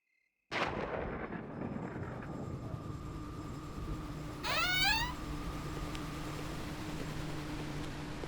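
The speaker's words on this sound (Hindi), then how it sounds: "लेकिन आज तो अपने यहाँ भी बादल गरज रहे हैं।" Thunder bursts in suddenly out of silence in a Hindi horror drama, then a heavy rolling rumble carries on steadily, with an eerie rising tone swelling briefly midway.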